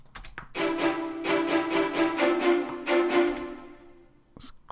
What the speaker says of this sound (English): So what's that? Spiccato strings.